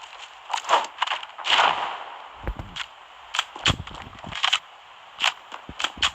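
Weapon reloading in a first-person shooter match, a run of sharp mechanical clicks and snaps mixed with short gunfire bursts, close and crisp with brief gaps between hits.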